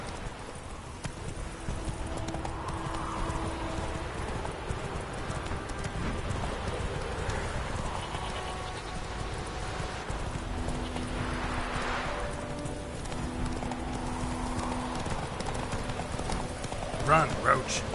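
Roach, the horse in The Witcher video game, gallops with a steady rhythmic clip-clop of hooves under a continuous game soundscape, while a voice talks over it at intervals.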